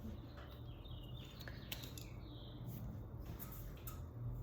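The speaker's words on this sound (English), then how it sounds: "You hear them birds?" Small birds chirp and tweet steadily in the background over a constant low outdoor hum, with no talking.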